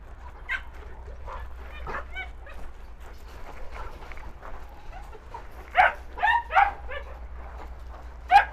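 Malakli dogs, strong and dominant, barking in short bursts at moderate distance, with louder yips and whimpers clustering toward the end over a steady low outdoor hum.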